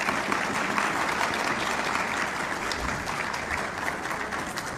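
Steady, dense applause from a rally crowd greeting Aitzaz Ahsan, continuous and fairly loud for the whole stretch with no voices standing out above it.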